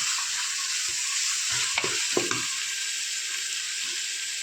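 Rice and tomato being stirred in a cooking pot, a steady hiss with a few scraping clunks from the spoon near the middle, close and alone without speech.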